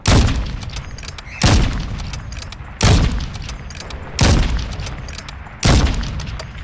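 An FJX Imperium sniper rifle firing in Call of Duty: Modern Warfare, five loud, evenly spaced heavy shots, each a sharp crack with a booming tail that decays before the next.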